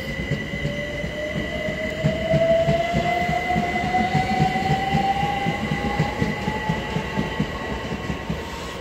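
A Class 387 electric train pulls away from the station at Hitchin on the East Coast Main Line, its traction motors rising in a smooth whine over steady rumbling and rhythmic wheel clatter, close and loud with no talk.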